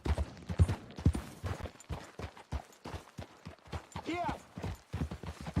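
Horse hooves clip-clop in Red Dead Redemption 2, a quick irregular run of close hoof strikes with a brief whinny, while a voice speaks briefly.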